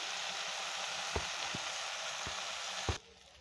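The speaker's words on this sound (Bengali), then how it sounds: "ভালো করে লালচে লালচে ভাজা হচ্ছে, এখনও আর একটু ভাজা হবে" Food frying until reddish-brown gives a steady close sizzle in a pan, broken by a few sharp utensil scrapes and taps as it is stirred, and the hiss cuts off near the end.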